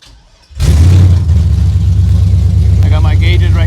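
A very loud engine in an OBS Ford project truck build cranks and catches after a quiet moment, then settles into a steady, rumbling idle close by, with a faint whine toward the end.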